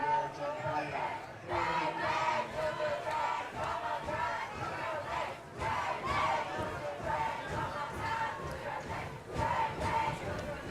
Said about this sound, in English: Cavalier faithful here, still cheering their team on, even though the score is in favor of the Vaqueros.